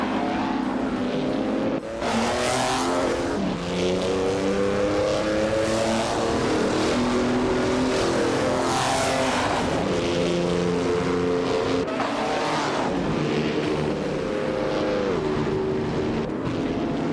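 Race cars roaring around a track in a racing video game, a continuous loud engine drone with rising and falling pitch as cars accelerate and pass, a commentator's voice over it at times.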